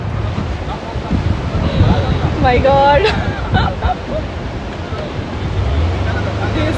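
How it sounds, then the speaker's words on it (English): Ocean surf and wind noise roar continuously at the start of a boat trip off Gokarna, with an excited voice exclaiming over the waves partway through. "this much waves!"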